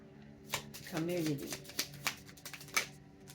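Tarot cards riffle and snap in short bursts, close to the microphone, with a brief stretch of talking in between.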